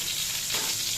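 Pointed gourd frying in a pan gives a steady, close sizzle with a bright hiss throughout and no voices.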